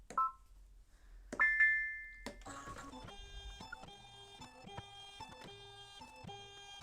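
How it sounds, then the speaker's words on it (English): A Babylock embroidery machine scans fabric: a few short beeps, then a steady mechanical whir with rhythmic stepping pulses as the scanner moves, close and fairly quiet. "now I need to scan, do an image of my fabric here. Scan that in."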